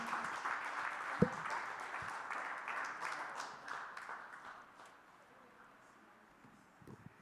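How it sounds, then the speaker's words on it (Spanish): A church congregation at a general worship service claps in a dense burst of applause that gradually fades out over several seconds, with a voice speaking over it. "Puedes darle un aplauso al Señor con todo tu corazón."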